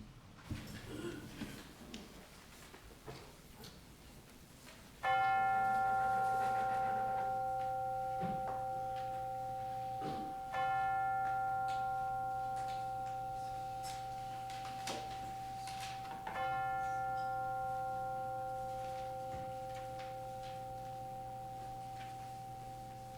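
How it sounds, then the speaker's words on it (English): Three soft chimes ring out one after another at even intervals, each tone sustaining and slowly fading in a quiet room. "And now let us center our hearts and minds with the ringing of the chimes."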